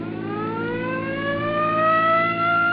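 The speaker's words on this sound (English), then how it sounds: "Come on, hit your siren." A loud police siren wails continuously, its pitch sweeping steadily upward, close and dominant with no voices.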